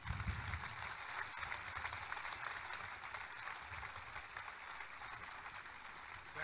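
An audience at a military redesignation ceremony at Fort Moore applauds, a dense, steady wash of clapping that sounds fairly distant and stays even for several seconds.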